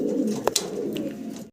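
A pair of Maltese pigeons coos softly nearby, low murmuring calls over a brief moment with a couple of faint sharp sounds mixed in.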